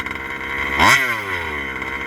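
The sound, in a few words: Rovan 5b RC car engine idling high with new carb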